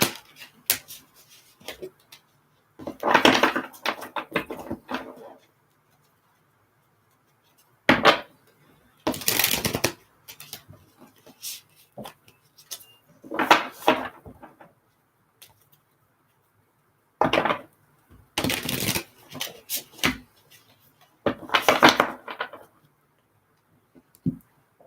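Tarot cards are shuffled by hand in a quiet room, in several separate bursts of crisp riffling and flicking with silent pauses between them.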